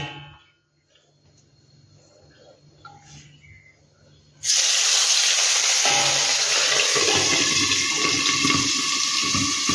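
Tengra fish hit hot oil in a frying pan and burst into a loud, steady sizzle about halfway through, after a quiet stretch of faint kitchen noise; six small freshwater fish fry together.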